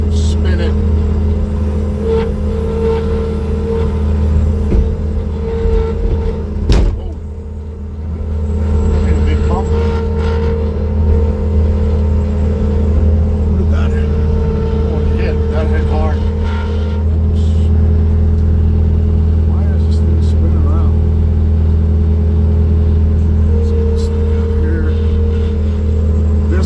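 Diesel engine of a Bobcat T650 compact track loader runs steadily at high idle while lifting and spinning a heavy log in a forestry setting, a loud continuous rumble with a brief dip midway, and someone talks over it.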